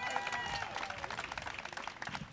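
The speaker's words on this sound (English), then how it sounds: "Could we please have a round of applause for Soha Ali Khan" At a book launch, an audience applauds Soha Ali Khan with dense, continuous clapping that stays steady and fairly loud throughout, with light crowd murmur underneath.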